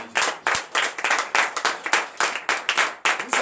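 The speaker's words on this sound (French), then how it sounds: "Donnez encore l'acclamation." A church congregation at a night of deliverance and prophecy claps in rhythm, sharp unison bursts repeating about twice per second, close and fairly loud, with a brief pause before the beat resumes.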